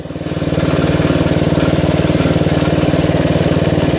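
A Toro Wheel Horse Recycler riding mower, model 56132, with a Briggs 8HP engine starts and settles into a loud, steady, pulsing idle close by, running alone without talk.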